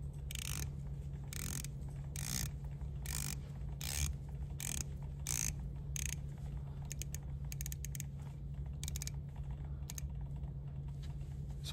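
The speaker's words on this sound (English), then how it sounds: "So let's take a look at the bezel action first." Ceramic rotating bezel on a titanium Breitling Super Chronomat turned in a run of crisp ratcheting clicks, close and fairly faint over a steady low hum, coming in quick bursts with short pauses.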